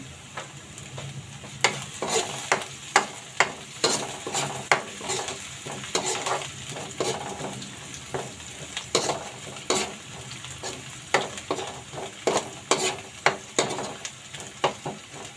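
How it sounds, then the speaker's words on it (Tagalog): Butter, onion and garlic sizzle steadily in a pan, with repeated sharp scrapes and clinks from a utensil stirring through the frying at an uneven rhythm, close and fairly loud. "halutuin natin siya. Butter, sibuyas, tapos bawang."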